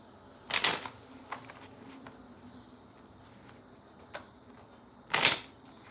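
A deck of playing cards is shuffled by hand, giving two short crisp riffling bursts a few seconds apart with faint soft handling sounds between them, close and quiet.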